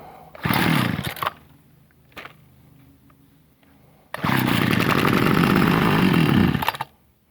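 A thirty-year-old Homelite string trimmer's two-stroke engine snarls loudly in two revving bursts, the second longer and held for a few seconds, with brief quieter idling in between.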